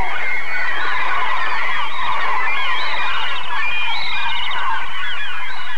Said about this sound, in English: The gulls keep circling overhead.